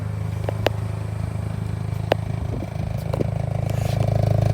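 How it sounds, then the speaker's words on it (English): A red 2022 Hyundai i20N with a 1.6-litre turbo engine idles in neutral, its exhaust a quiet, steady low rumble with a few faint clicks, swelling slightly near the end. "Doesn't have much exhaust sounds to it,"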